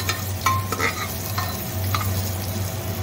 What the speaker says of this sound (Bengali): কাঁচা লঙ্কা দিয়ে দিলাম দিয়ে একটু নেড়ে নেবো